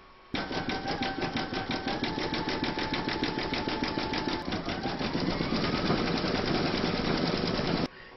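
An embroidery machine stitches the central design of a large Celtic quilted topper, a steady, fast mechanical chatter that runs evenly for about seven and a half seconds and then stops abruptly.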